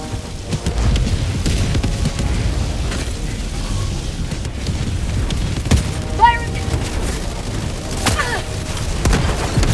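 Orbital laser strike in Helldivers 2 on a fabricator outpost, a sustained loud roaring, crackling barrage with booming bursts, dense throughout with brief higher tonal flashes near the middle.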